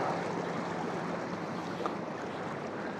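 A fast river swollen by frequent rain rushes steadily past a town center, a dense, continuous broadband roar heard fairly close with no talking.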